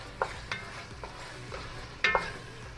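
Turmeric being stirred into minced meat and potato in a pan, a few distinct scraping spoon strokes over a soft, quiet sizzle, with a louder double scrape near the end.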